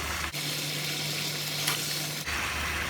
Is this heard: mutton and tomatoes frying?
yes